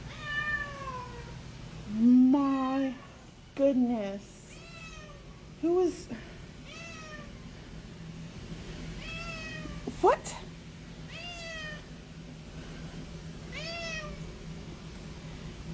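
A nine-and-a-half-year-old adoptable female cat at a pet shelter meows loudly and repeatedly in a run of drawn-out, rising calls, close to the listener, while a person talks briefly in between.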